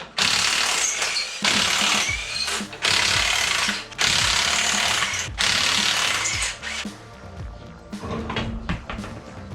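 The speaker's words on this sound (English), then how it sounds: "So I'll get the wheels and tires off first." Wheels and tires coming off a V6-to-V8 swapped Camaro: loud bursts of an impact wrench rattle in repeated pulses of about a second each, separated by short pauses and clanks of mechanical handling.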